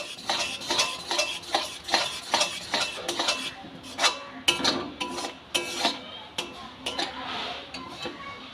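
A spoon stirs and scrapes through palm fruit pulp in a pan while tal kheer cooks, making repeated rhythmic scraping strokes against the metal, close and moderately loud, with a soft sizzle between strokes.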